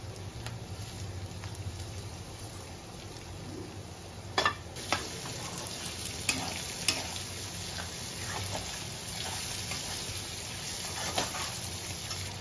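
Capsicum being stir-fried in a pan for chilli chicken, with a steady low sizzle running throughout and scattered sharp clicks and taps of a utensil against the pan, no talking.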